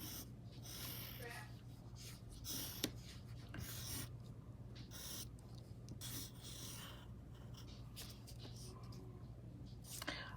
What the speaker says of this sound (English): So I think what I'll do is, again, I'll write Miss Henry